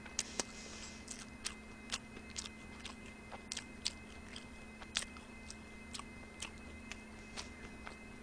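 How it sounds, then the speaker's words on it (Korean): Close-up chewing and lip smacking while someone eats a McDonald's burger, with quiet, irregular wet clicks and crunches repeating every second or so against a faint steady hum. "오늘 좀 쩝쩝거리나요?"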